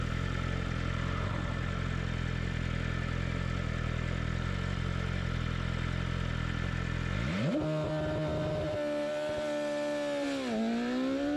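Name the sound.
car engine revving in first gear for launch control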